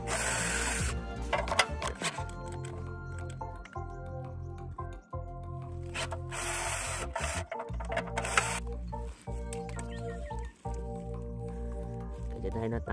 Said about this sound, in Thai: แค่ยิงน็อตยึดออก3ตัวนะครับ